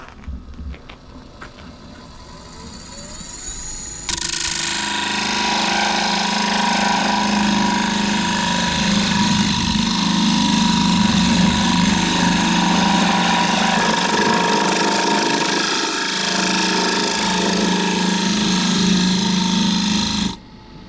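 A negative rake scraper cuts wood turning on a lathe, giving a steady, loud grinding scrape over the lathe's hum. A quieter motor whir comes first and the scraping then holds for about sixteen seconds.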